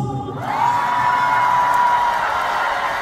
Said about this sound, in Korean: 좀 작은 것 같은데 한 번 더 박수와 함성.